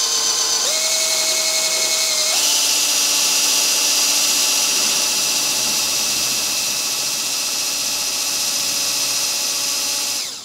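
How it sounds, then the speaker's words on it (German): A power drill bores a hole through the fender and slug guard of a Vespa GTS 300 scooter, a steady loud whine that steps up in pitch twice early on, then runs continuously for about ten seconds before stopping. "Dazu bohren wir hier ein Loch durch beides durch, Kotflügel, den Fender und auch den Slug Guard."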